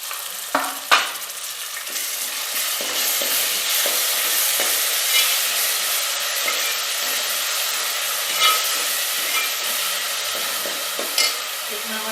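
Tomato paste and green chillies sizzle steadily in a pan over fried onion and ginger for dhaba-style mixed dal, with a few sharp clinks of a spoon against the pan near the start.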